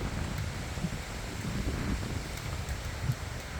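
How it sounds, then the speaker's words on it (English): Strong hurricane wind from Hurricane Helene roars steadily around a canal in southwest Cape Coral, Florida, a dense broadband rush with small gusty swells, loud and close to the microphone. "Wind comes in a sporadic motions here. It'll be pretty strong for a while, and then it'll die off"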